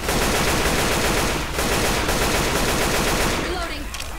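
Rapid automatic gunfire rattles nonstop in the video game Left 4 Dead 2, loud and close, with a brief dip midway and the bursts thinning out near the end.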